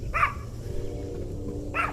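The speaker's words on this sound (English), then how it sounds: "That's not what my dogs are barking at." Two short dog barks at a cold spring tent campsite, one near the start and one near the end, with a steady low hum of wind or a fire underneath.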